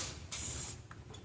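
Short hissing bursts of aerosol lubricant are sprayed upside down onto the gears of an Ariens ST824 two-stage snow blower: two quick, close squirts in a quiet space.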